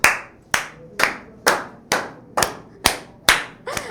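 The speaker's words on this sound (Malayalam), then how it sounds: "ഓക്കെ ആണ്, സെറ്റ് ആണെങ്കിൽ ക്ലാപ്പ്." Students in a classroom clap in a steady rhythm, eight sharp, loud claps spaced about half a second apart, with no talking over them.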